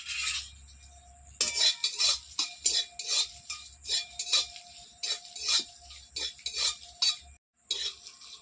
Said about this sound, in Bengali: ওটা আমি শুকনো কড়াইতে ভেজে নেবো শুকনো লঙ্কা দিয়ে দিই প্রথমে